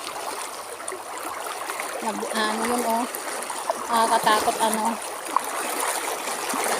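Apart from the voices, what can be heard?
deep fast-flowing river water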